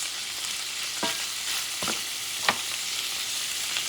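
Chorizo and green beans fry in a pan with a constant soft sizzle, broken by a few sharp scraping stirs of a utensil, close and alone without voices.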